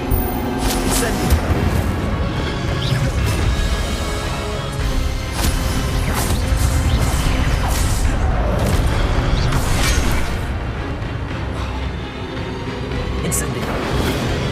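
Incendio fire spell cast amid wizard combat in Hogwarts Legacy, heard as dense, continuous booming blasts and crackling impacts filling the whole stretch, with character voices mixed in.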